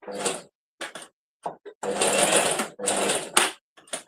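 A home sewing machine runs in loud, close bursts, short stutters of stitching and then two longer runs, with abrupt stops and silence between them.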